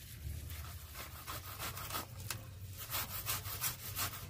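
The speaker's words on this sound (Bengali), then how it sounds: "এইভাবে আমি সব আটিগুলো ঘষে নেব।" Palm fruit seeds rubbed by hand to extract pulp for a taler bora recipe: continuous close, steady rasping and scrubbing with repeated strokes at an even moderate level, no talk.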